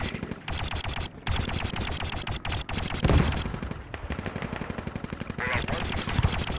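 Rapid blaster fire in Star Wars Battlefront II on Tatooine, dense repeating bursts over a steady battle din, with loud cannon-like blasts mixed in and occasional voices underneath.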